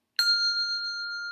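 A single handbell, rung using a four-in-hand grip, gives one bright struck tone that rings on clearly and sustains with a slow, smooth decay, heard alone in a quiet room.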